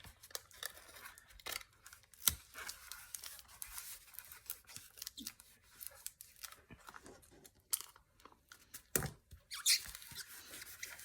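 Scissors cut through the cover of a hardcover book being made into a journal cover, giving close irregular snips and crunching cracks with rustling paper between them, some cuts sharp and louder, others soft.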